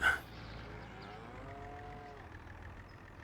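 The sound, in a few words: cows mooing in video game Farming Simulator 25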